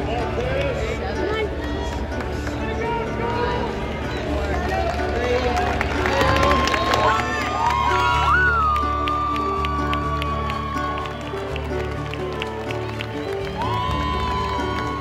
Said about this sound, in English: There was a lot of cheering, a lot of yelling